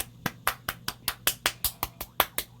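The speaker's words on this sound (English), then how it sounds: "Everyone, do a round of applause for Loki and me and someone else" About a dozen sharp, close hand claps land in a steady, even rhythm, each a crisp slap with no talking over it.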